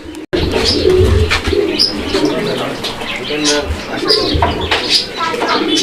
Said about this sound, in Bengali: এই কবুতরটা কি সুন্দরভাবে ব্রিডিংটা কমপ্লিট করলো